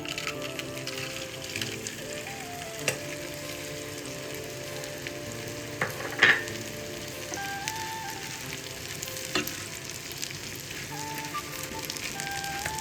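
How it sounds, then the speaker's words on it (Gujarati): Edible gum (gond) frying in hot ghee while modak is being made, a low, steady crackling sizzle with scattered pops and one louder burst midway, with faint tonal background music underneath. "આપણું ઘી ગરમ સરસ થઈ ગયું છે તો આપણે ગુંદ એડ કરી"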